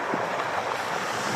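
A brief rush of strong waves breaking on a rocky shore, a loud roaring wash mixed with wind noise.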